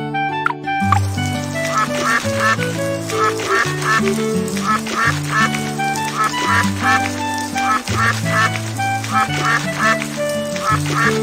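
A cartoon duck quacks repeatedly in a Baby Bus children's video game about rescuing abandoned animals, rhythmic quacks set over a bouncy game-music backing, loud and steady throughout.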